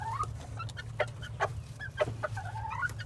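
Silkie hens clucking close by, a string of short clucks and a few rising, drawn-out calls over a steady low hum, with no talk.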